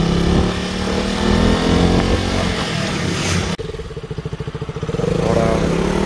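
A KTM motorcycle engine drones loud and close while riding a hilly mountain road between Solan and Shimla, then drops to a lumpy, pulsing idle-like putter before rising again.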